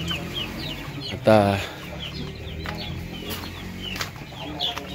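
Native breeder chickens in a simple backyard coop on a small farm, with a close, loud cluck near the start followed by softer scattered clucks and rustling, while a person speaks briefly.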